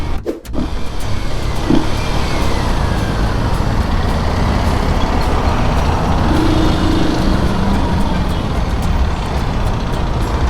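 A Kawasaki KLX 230 dirt bike engine runs steadily and loudly up close with a broad, rough roar that holds an even level throughout, and no clear rise in revs stands out.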